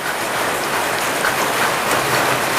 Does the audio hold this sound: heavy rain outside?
yes